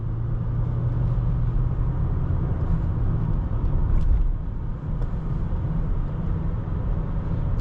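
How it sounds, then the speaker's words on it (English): A 2017 Lexus ES 350 with a 6-speed automatic accelerating, heard from inside as a steady low engine and road rumble that swells briefly near the middle, then settles. "Pretty good acceleration. The 6-speed automatic does a decent job."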